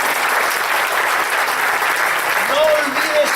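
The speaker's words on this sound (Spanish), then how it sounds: "¿Puedes darle un aplauso al Señor?" Congregation applauding the Lord during a church service, loud continuous clapping with voices rising over it near the end.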